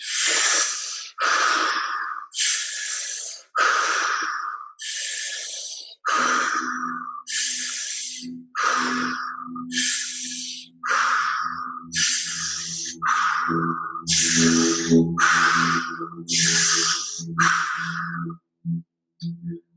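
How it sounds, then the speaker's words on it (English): Steady mouth breathing during a guided breathwork exercise: about fifteen strong, rhythmic breaths in regular succession, each a loud airy rush, close and clear with no talking over them. "You switch to mouth breathing as you wish."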